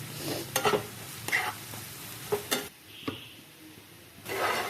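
Chopped green chillies and spices sizzle in a pan, with several sharp scraping stirs and bursts of frying hiss that drop to a quieter simmer midway before flaring again.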